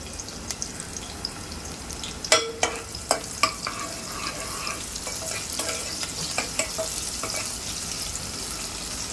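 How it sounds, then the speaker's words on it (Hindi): Curry leaves and onion drop into hot oil in a pan and sizzle, with a soft steady fry and a handful of sharp crackles and pops, close and fairly quiet, with no talk. "यहाँ पे ऑयल जैसे ही गर्म हो जाएगा तो मैं यहाँ पे 4 से 5 कड़ी पत्ते हैं वो डाल दूँगी इसके अंदर। और यहाँ पे जो एक प्याज है वो डाल देंगे"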